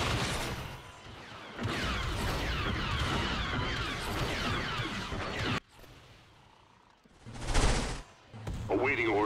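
Rapid bursts of weapons fire in a video game battle with starships, a dense loud rattle of shots that cuts off abruptly and returns in a short heavy blast before fading.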